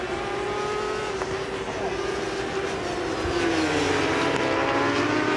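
Honda racing motorcycles at the Suzuka 8 Hours endurance race, heard as a continuous high engine whine with passing tones that shift pitch, loud and steady throughout, with crowd and track ambience behind.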